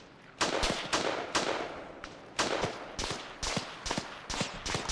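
Repeated gunfire bursts from a war video game set in a Second Korean War scenario, about eight sharp volleys in irregular rhythm, loud and close, with no voices.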